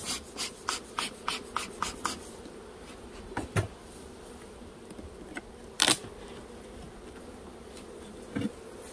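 Honey bees buzz around an open nuc hive outdoors, a low continuous hum with a run of sharp clicks and taps early on and occasional louder knocks, close by, with no talking.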